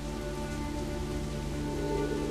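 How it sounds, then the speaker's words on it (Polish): Rain falls in Assassin's Creed IV: Black Flag, a steady, even patter of rain with a faint tonal hum beneath, heard alone without talk. "Trochę pokapuję tym deszczem, ale to nieważne."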